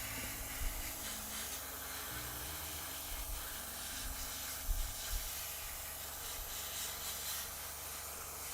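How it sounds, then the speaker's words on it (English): An airbrush spraying paint onto Warhammer 40k miniatures gives a steady, soft hiss that runs throughout, close and fairly quiet, with faint low thumps and room noise beneath. "is the airbrush too loud?"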